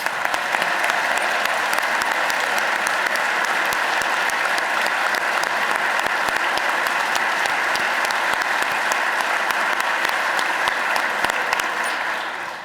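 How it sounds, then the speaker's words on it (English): Sustained audience applause for a teacher during a governor's state budget address, dense even clapping filling a large hall for several seconds and tapering off at the end. "clap for Haley"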